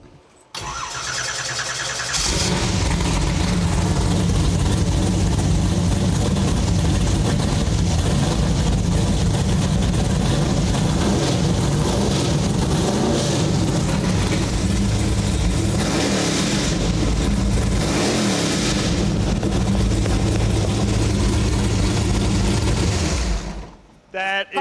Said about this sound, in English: Now it's time to see what 588 cubic inches of big block Chevy power sound like in the car.